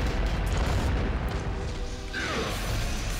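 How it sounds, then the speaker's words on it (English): Bomb explosions in Devil May Cry 2 come as loud, dense rumbling booms and crashing bursts filling a continuous roar of game action, with a brief sharper hit near the end and no talking. "the explosions from the cranky bomb will take out a lot of those spheres"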